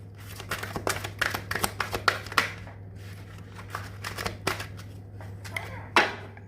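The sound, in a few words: shuffling tarot cards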